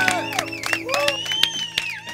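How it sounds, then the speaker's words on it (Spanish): A live concert audience claps, cheers and whoops in a loose, scattered burst of applause, with sharp individual claps and high shouts ringing out over sustained tones. "Bueno, ese aplauso ya me lo llevo a casa, ¿eh?"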